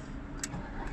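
A car running on cooking oil starts up and settles into a steady mid-pitched idle, with a continuous close engine rumble and a couple of brief higher rattles on top.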